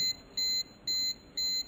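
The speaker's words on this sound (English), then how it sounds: "the buzzer and yellow LED will work" A ZyAura ZGw08VRC wall-mount CO2 monitor sounds its buzzer alarm, a high electronic beep repeating about once a second in evenly spaced pulses, clear and alone.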